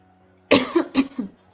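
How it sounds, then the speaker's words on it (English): Someone with a lingering cough coughs twice, close and alone, each cough a harsh burst followed by a short rough tail. "I can't seem to shake this cough"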